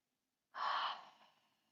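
A single deep breath, drawn in or let out like a sigh, during a children's yoga exercise, close and clear after a moment of silence, fading out gradually.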